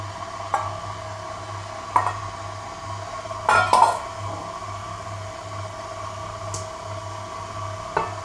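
Almond powder, melted butter, sugar and orange blossom water being mixed by hand in a bowl for corne de gazelle filling, giving a few soft scrapes and clinks at irregular intervals over a low steady hum.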